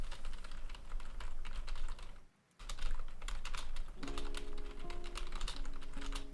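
Computer keyboard keys clatter in steady, rapid runs of keystrokes. Typing pauses briefly near the middle, then resumes close and even under a low background hum.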